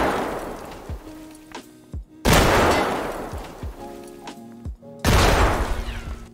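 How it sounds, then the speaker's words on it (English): Heavy gunfire from Killa in Escape from Tarkov, several loud bursts and booms each trailing off into echoing decay, with quieter gaps between them. "he starts mag dumping all the bullets he has"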